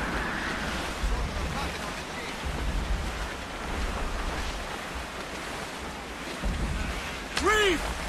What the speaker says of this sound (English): Dark skies and rough seas there.